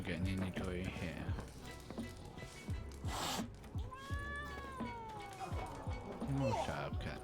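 A cat in the video game The Witcher meows repeatedly with rising and falling whines, mixed with other in-game sounds and voices over a steady background.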